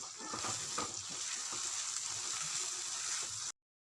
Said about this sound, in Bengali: স্বাদ মতো লবণ স্বাদ মতো চিনি দিয়ে ভালো করে কষে নেব